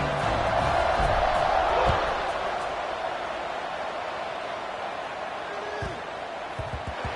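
A football stadium crowd roars in a steady, dense wash of cheering as a college game kicks off, loud and sustained throughout with a slight swell in the opening seconds.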